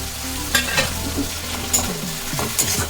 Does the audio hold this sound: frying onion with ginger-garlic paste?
yes